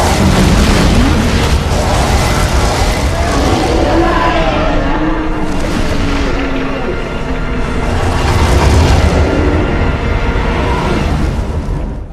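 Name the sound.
explosions like fireworks in video game Ultima 1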